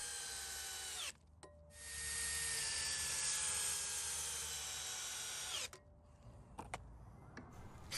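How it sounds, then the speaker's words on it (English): A power drill drives structural headlock screws into wood while building a large swing set beam, running loud and steady in two long bursts with a short pause between, then falling quiet with a few faint clicks. "And then drive in screws."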